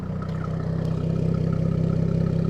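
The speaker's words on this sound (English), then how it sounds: "Once again, listen to the exhaust." A Jaguar F-Type exhaust burbles at idle nearby, giving a steady, even low rumble that swells slightly toward the end with no other sounds over it.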